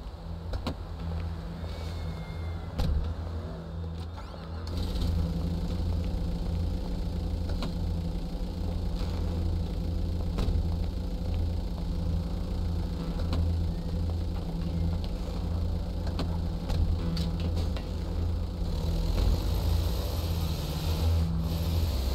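Vehicle engine from Grand Theft Auto V, a van carrying a heist crew with Franklin driving, holding a steady low drone throughout with occasional mechanical clicks; no talk.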